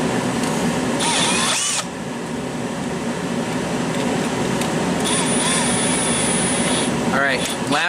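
A power drill whines in short bursts while driving screws during a rock light install on an Arctic Cat Textron Alterra 500 off-road vehicle, heard close over a steady background hum, with voices talking.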